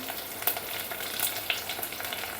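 Cumin and fenugreek powder stirred into a drumstick curry gives a continuous soft sizzle with a few brief scraping stirs in the pan, close and fairly quiet.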